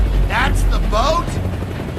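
A helicopter thumps with a low, steady rotor drone in a Gears of War: Judgment cutscene, running loud beneath dialogue in a voice with a rising, sweeping tone.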